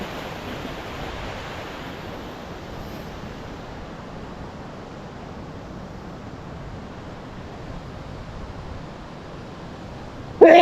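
Strong wind in the Alps blows in a steady, broadband rush that roars continuously for several seconds with no voices, and ends in a brief louder bump.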